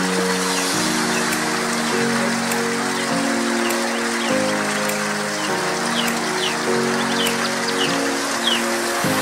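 Rain falls steadily on a ranch in July, a dense, even patter with scattered sharper drips, while a tonal melody plays underneath in stepped notes.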